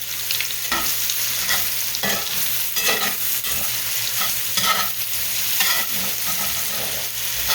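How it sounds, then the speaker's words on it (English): Mushrooms being stirred and sautéed in hamburger steak drippings, a dense sizzle with repeated scraping strokes of a utensil through the pan at an uneven rhythm. "And I just stir these together into the drippings. And I'm going to let these saute"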